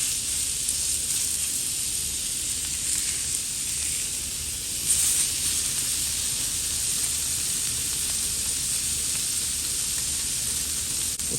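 Ribeye steaks sizzle on a Primo Kamado grill, a steady close frying hiss with a brief louder burst midway as one is moved, no talk.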